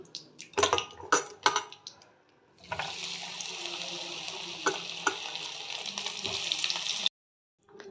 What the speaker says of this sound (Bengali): এবার পরে যেগুলো কপি রয়েছে আর একটা ব্যাচ হবে, সেটা আমি ভেজে নেব।